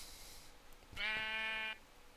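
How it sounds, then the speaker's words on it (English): A single sheep bleat in the Minecraft video game, a short clear harmonic cry lasting under a second, heard alone against quiet background. "we're back where we started with our sheep in a tree"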